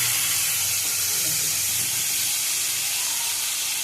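Pointed gourd slices, cut in long strips, frying in oil in a home kitchen pan: a steady, loud hiss and sizzle running throughout with no pauses.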